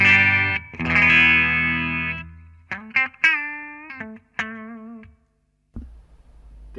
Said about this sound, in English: reverb on this amplifier is a digital reverb